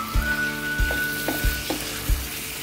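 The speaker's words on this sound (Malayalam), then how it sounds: "ഇതൊന്ന് മസാലയൊക്കെ പിടിക്കണവരെ ഒന്ന് ഇളക്കിയിട്ട് ഒരു 5 മിനിറ്റ് മൂടി വെക്കാം." Fried potatoes are stirred through a sizzling onion-tomato masala. Four evenly spaced scraping strokes sound over a steady low sizzle, close and moderately loud.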